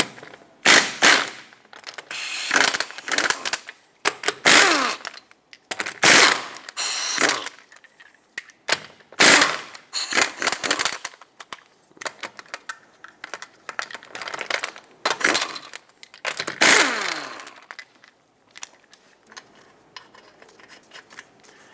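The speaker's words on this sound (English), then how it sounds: "Use a 19mm socket, remove all 5 of your lug nuts, and then remove the wheel." Ratchet wrench with a 19mm socket spinning off the five lug nuts on a Jeep Compass wheel during rear CV axle work, heard as repeated bursts of quick clicking separated by short pauses and light metallic handling, close and alone without talk.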